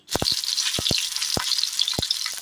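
Shallots fry in a pan for a Kerala dish, giving a bright, close sizzle punctuated by several sharp knocks of a utensil against the pan.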